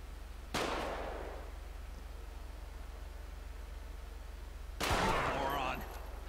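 Two loud, sharp gunshot bursts from a police-patrol gunfight in the video game GTA with the LSPDFR mod, each a sudden crack with a decaying tail, separated by a few seconds over a steady low hum.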